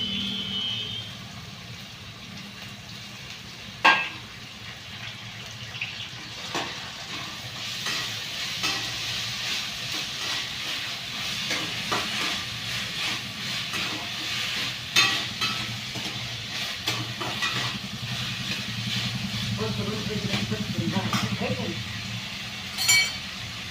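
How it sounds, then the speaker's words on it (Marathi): Moth beans and tomato dry roasting in a pan, a low continuous sizzle with occasional spatula scrapes and clinks, a few louder knocks, and someone talking over it. "मटकी छान अशी भाजली आहे."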